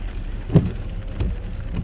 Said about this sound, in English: I didn't expect it to be raining this hard